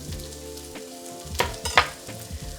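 Onions and vegetables sizzle and fry steadily in a steel pan, with a few sharper crackles and pops partway through; no one speaks.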